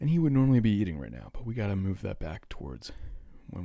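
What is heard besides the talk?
No everyday noises stand out.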